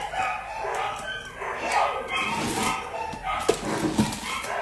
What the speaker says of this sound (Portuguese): a cachorrada começou a latir